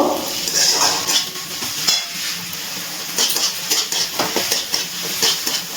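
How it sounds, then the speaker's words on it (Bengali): Chopped tomato is stirred and scraped in a hot pan while it softens for a chicken chop filling, with steady soft scraping and faint sizzling, close and continuous, and no voices. "টমেটোটা একটু নাড়াচাড়া করে একটু গলিয়ে নেব।"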